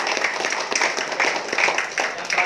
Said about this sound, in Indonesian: tepuk tangan dong buat Pak